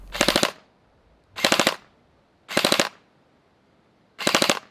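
An LDT UMP45 gel blaster rated at 300 fps fires four separate bursts, each a tight cluster of several sharp rapid shots, with short silent gaps between them and no voices.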